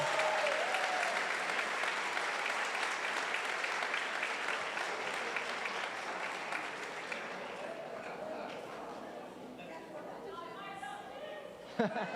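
A church congregation applauds as a pastor is called up to preach one evening; dense, loud clapping that gradually thins and softens, with chatter and voices emerging near the end.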